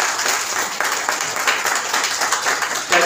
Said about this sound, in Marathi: हे युट्यूब चॅनल्स वाल्यांच्यासाठी बरोबर एकदा टाळ्या वाजवा